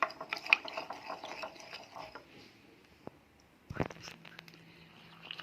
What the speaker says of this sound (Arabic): هنفضل نقلب لغاية ما نوصل للقوام الكريمي